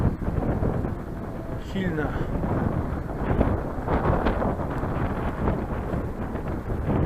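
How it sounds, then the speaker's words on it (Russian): Heavy wind by a river and lake buffets the microphone with a constant low rumble and roar, while a voice speaks faintly underneath. "потому что ветер такой и продувает меня"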